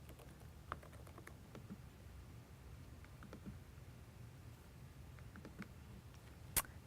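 Quiet typing on a computer keyboard, scattered light key clicks at an uneven pace, with one sharper tap near the end and no talking.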